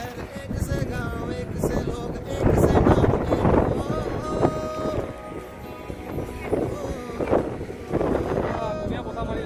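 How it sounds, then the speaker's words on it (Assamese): Wind gusting across the microphone at Chang Valley hilltop viewpoint in the Jaintia Hills of Meghalaya, a loud rumbling buffet that surges and eases, with a voice speaking over it. "ধুনীয়া বতাহ মাৰি আছে"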